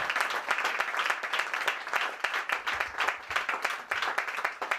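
Church congregation clapping at a Pentecost service, a dense steady patter of many hands filling the room for the whole stretch, fairly close and even in loudness.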